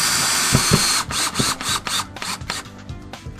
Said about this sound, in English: Push it in, and then drill it in.